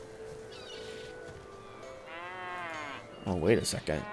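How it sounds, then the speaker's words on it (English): A cow in the fantasy role-playing game Divinity: Original Sin 2 gives one drawn-out, wavering low, in a quiet game scene, followed by someone talking over other louder game sounds. "There's moo-moo cows here."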